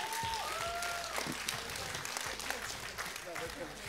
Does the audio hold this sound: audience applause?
yes